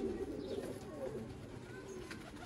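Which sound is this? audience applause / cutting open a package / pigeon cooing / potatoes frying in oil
pigeon cooing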